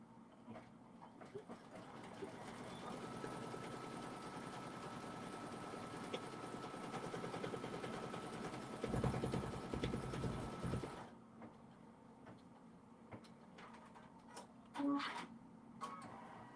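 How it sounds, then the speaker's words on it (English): A sewing machine runs a placement stitch for the top of a bow in a quilting project, a steady close mechanical whir lasting about eleven seconds, then quieter handling sounds. "now it's going to do the placement stitch for the top of the bow"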